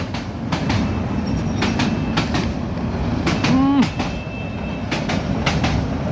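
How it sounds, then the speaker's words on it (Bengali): A train rolls past through dense winter fog, its steady rumble and clattering wheels filling the scene, with short squeals and metallic ticks near the middle as it goes by close at hand. "ট্রেনটা দেখেন দেখা যাচ্ছে না এত কুয়াশা ট্রেন দেখা যাচ্ছে না"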